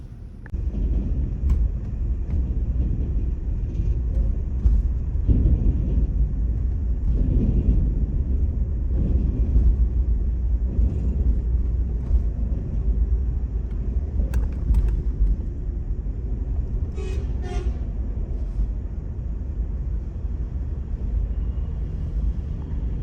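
Steady low rumble of car traffic crossing a bridge, a continuous wash of passing vehicles with occasional swells as individual cars go by, no voices.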